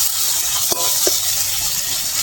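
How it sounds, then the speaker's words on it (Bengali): Prawns fry with turmeric in a pan with a loud, constant hissing sizzle, broken by two sharp clicks as they are stirred. "এবার নেড়ে চেড়ে একটু ভেজে নেবো।"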